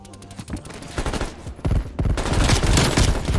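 Gunfire from the Fara-83 rifle in the video game Black Ops Cold War: sharp bursts of shots that start sparse, then grow into louder, dense strings of rapid fire.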